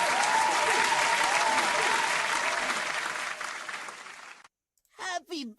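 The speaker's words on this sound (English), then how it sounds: "Where's my damn round of applause at?" A crowd gives a round of applause, dense steady clapping for about four seconds that thins and fades out, followed by a brief moment of silence and then a voice speaking.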